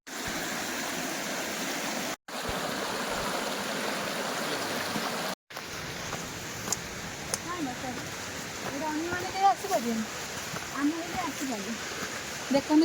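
Ramkashi Waterfall in a forest in Kalahandi pours with a steady, loud broadband rush of flowing water that stays constant throughout, with a couple of brief cuts and faint birdlike chirps over the roar in the later part.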